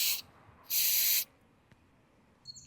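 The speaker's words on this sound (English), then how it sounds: "And spray it one more time." Mass airflow sensor cleaner sprays onto the sensor contacts of a Mazda CX-5 in two short aerosol hisses, the second longer, close and loud, followed by quiet handling sounds.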